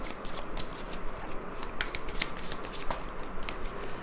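Tarot cards are shuffled in a continuous, close riffle of crisp flicks and rustles with small snapping taps, with no voices.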